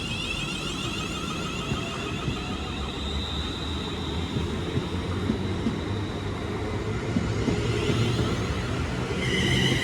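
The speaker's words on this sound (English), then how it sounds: "there goes the 12:49 London North Western Rail service from Crewe to London Euston" A London Northwestern Railway passenger train running from Crewe to London Euston passes on the West Coast Main Line, a steady, broad rumble of wheels and traction holding throughout with no speech.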